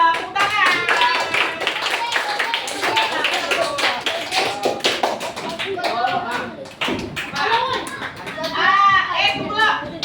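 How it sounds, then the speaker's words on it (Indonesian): Children in a classroom lesson clap their hands together, a burst of quick uneven claps mixed with young voices chattering and calling out, busy and close throughout. "Tepuk tangan."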